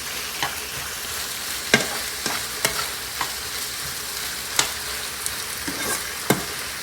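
Chicken liver frying in a pan, a constant close sizzle broken by sharp spatula scrapes and taps against the pan every second or so, with no talking.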